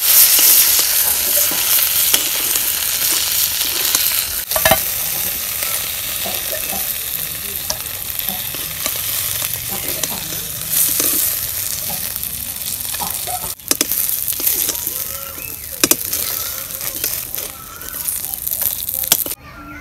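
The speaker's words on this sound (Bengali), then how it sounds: "মাছ ভাজা বইছে" Fish sizzles steadily in a pan of hot oil, a loud continuous crackle with occasional sharper pops and stirring scrapes throughout.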